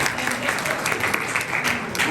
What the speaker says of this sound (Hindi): इन सबके लिए एक बार बहुत जोर से ताली बजाइए